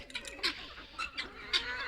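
Chickens being chased around a yard, with several short squawks and clucks rising in bursts over a busy background, fairly close.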